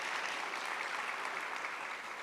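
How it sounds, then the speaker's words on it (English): An audience applauds the panelists at an anniversary celebration, a steady, dense wash of clapping from a room of people that carries evenly through the whole stretch without pause. "A round of applause for the panelists"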